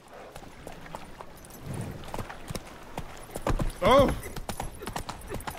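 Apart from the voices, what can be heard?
horse Roach galloping in The Witcher 3 video game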